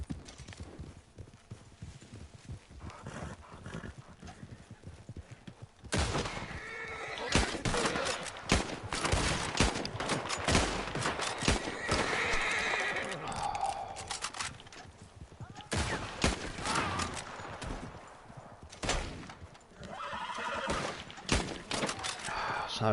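Horses gallop with rapid clip-clop hoofbeats amid bursts of gunfire in the Red Dead Online video game, busy and layered, with a player talking over parts of the action.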